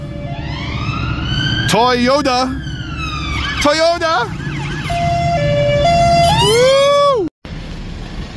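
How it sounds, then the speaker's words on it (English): A police siren wails and yelps loudly with rising and falling sweeps, overlapping horn-like tones and a steady two-tone pattern, while a voice shouts over it before the siren cuts off briefly near the end. "Hoot, hoot, it's the sound of the police."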